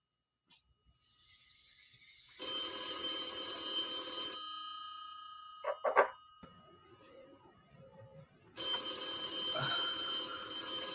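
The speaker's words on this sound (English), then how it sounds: "Phone's ringing." A telephone rings in repeated long electronic bursts, with a quiet gap and some small clicks between rings.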